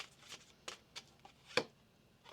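Tarot cards being shuffled by hand give soft, irregular flicks and taps with one sharper snap near the end; the sound is faint and close, with no talking.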